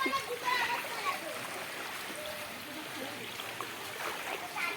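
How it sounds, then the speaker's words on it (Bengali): Waist-deep flood water after heavy rain, sloshing and splashing steadily as someone wades through it close by, with people talking over the water throughout. "কিভাবে জল ঢুকছে দেখো, সব জলের তলায়।"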